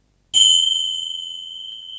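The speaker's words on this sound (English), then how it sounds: "And the chimes." Meditation chimes ring once with a bright metallic strike, leaving two clear pure tones that sustain and slowly fade in an otherwise quiet room.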